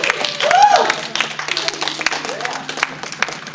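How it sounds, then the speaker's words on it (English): Audience applause rising and fading at a convention closing ceremony in Omaha, a dense patter of many hands with scattered whoops and cheers from the crowd, lasting steadily throughout. "give yourselves a round of applause"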